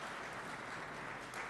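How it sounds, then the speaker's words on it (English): Steady, faint clapping from an audience at a finance bill review session, a brief continuous patter of many hands heard from a distance. "let's give Wakili a better clap."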